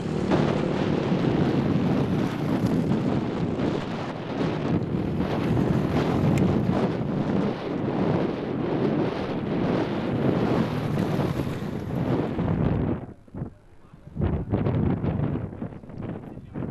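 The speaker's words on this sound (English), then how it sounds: "just before the arrival of a forecast sandstorm" Strong desert wind gusting ahead of an arriving sandstorm at the Merzouga Rally in Morocco, a loud, continuous buffeting roar against the microphone that dips briefly near the end before surging again.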